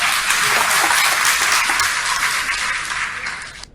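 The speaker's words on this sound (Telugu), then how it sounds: "సభ ప్రాంగణమంతా చప్పట్లతో మారుమ్రోగిపోయిందనే చెప్పాలి" Audience applause fills the venue at a ramp walk fashion show of handloom clothing in Raipur, a dense steady clapping that fades out toward the end.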